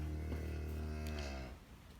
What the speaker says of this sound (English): The beef cows just happen to be right on the outside of the barn